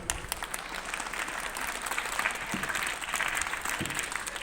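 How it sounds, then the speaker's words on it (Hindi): Audience applause at a school gathering in India, a steady wash of many hands clapping at moderate distance, sustained evenly throughout without speech. "हम एक बार ताली बजा उनका भी सम्मान करें।"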